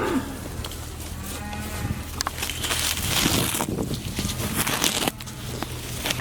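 Low mooing from an Angus Holstein cross heifer about to calve comes through steady wind and outdoor noise in icy cold weather, with a few thumps and rustles nearby.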